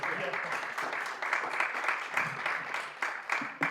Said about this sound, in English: Another round of applause for all of our presenters and presentation